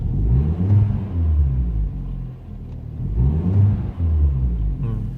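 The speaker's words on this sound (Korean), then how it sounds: "잠깐 좀이 배기를 좀 해놓으신 것 같은데 소리 들어보시면은" Deep, rumbling modified exhaust on a tuned Genesis car revs up and settles a few times, loud and close, with a throaty low growl.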